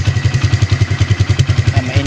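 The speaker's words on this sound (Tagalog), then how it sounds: "Mainit na yung makina." A motorcycle engine idles steadily while warming up in Albay, its low, regular putter pulsing close and loud on its own with no talk over it.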